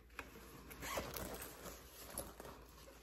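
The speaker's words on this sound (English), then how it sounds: "we have another interior zip" An interior zipper on a bag being pulled along its track, a close, scratchy ripping run with a few short bursts and a quiet pause between them.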